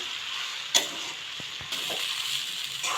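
Poha being stirred in a pan for flattened-rice upma, a steady close sizzle of frying with scraping stir strokes and a few soft knocks, no voices.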